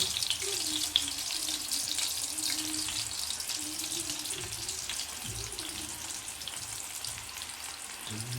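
Coated prawns deep-fry in hot oil with a steady, even sizzle and a faint low hum underneath, and no one speaks.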